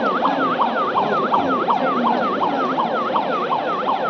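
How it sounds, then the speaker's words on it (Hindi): A loud wailing emergency siren sounds for an earthquake drill, rising and falling steadily and continuously with no voices over it. "अब एक साइरन ब्लो करेगा और it will indicate earthquake hit हुआ है।"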